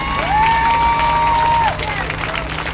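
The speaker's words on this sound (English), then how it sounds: "So let's applaud Dr. Tiller for his courage" Crowd at an outdoor vigil in Union Square, New York, clapping and cheering loudly in a continuous wash, with a whistle or shout rising over the applause.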